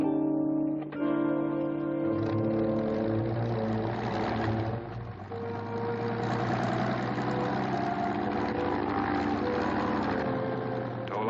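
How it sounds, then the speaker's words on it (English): A glider's tow plane propeller engine runs in a steady, loud, droning hum with layered harmonic tones, holding continuously without pause and with no talk over it. "Tow plane ready."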